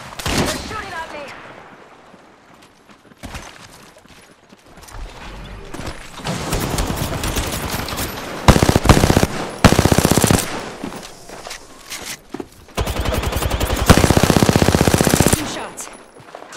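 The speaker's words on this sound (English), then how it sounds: "They're shooting at me." Gunfire from the Apex Legends shooter game comes in bursts of rapid automatic fire and single shots, loud and close, separated by quieter stretches, with a player talking in between.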